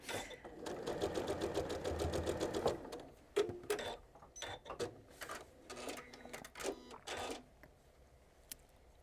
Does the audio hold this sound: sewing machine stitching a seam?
yes